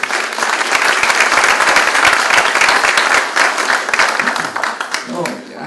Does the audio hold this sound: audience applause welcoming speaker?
yes